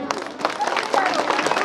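Applause from the audience at a school prize-giving ceremony as a first-place class 1 pupil receives his award, a dense patter of many hands clapping continuously, fairly close and loud.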